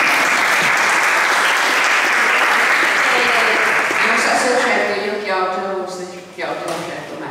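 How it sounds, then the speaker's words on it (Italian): Dense audience applause fills a hall at a public political talk, loud and sustained, then thinning as a voice begins speaking over the tail. "Applauso"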